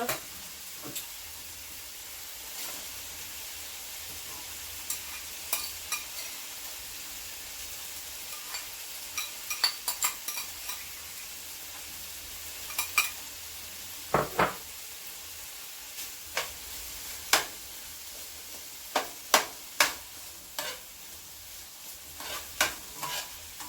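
Onions fry quietly in a pan for Haitian macaroni salad, a soft steady sizzle broken by repeated sharp scrapes and clacks of a spoon stirring against the pan at irregular intervals, close and with no speech.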